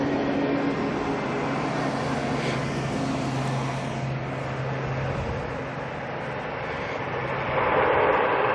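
An ATR turboprop departs at night from Auckland Airport, its engines a sustained droning roar with a low steady hum, dipping slightly midway and then swelling louder near the end.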